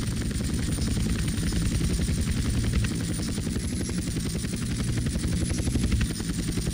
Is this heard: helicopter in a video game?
yes